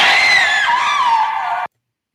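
A woman in a Twilight Zone episode lets out a single long, loud, high-pitched scream that wavers and ends abruptly, followed by silence.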